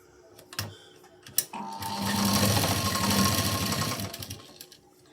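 A sewing machine stitches a cross strip onto a blouse, rising after a few handling clicks into one steady, close whirring run that fades out near the end.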